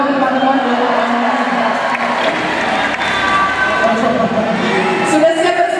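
A crowd at a band concert in the GOR Sudiang arena in Makassar cheers and claps steadily, a dense, loud roar of many voices with applause.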